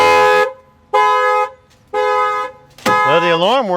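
A car alarm sounds three loud, sustained horn blasts separated by short gaps, then switches to a rising and falling siren wail for the last second.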